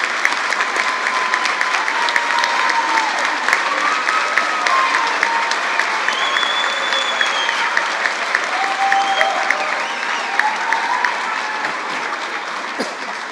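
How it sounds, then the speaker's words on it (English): Loud, sustained applause from a large crowd at a 2024 high school graduation, honoring the graduates' families, with steady clapping throughout and a few faint voices mixed in. "Students, let's give them a rigorous round of applause"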